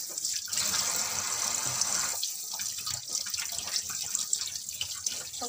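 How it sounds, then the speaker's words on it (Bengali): Bata fish being rinsed clean under running water, a steady splashing stream with sloshing and dripping throughout, close and fairly loud, no voices. "মাছগুলো সব ধুয়ে পরিষ্কার করতেছি বন্ধুরা।"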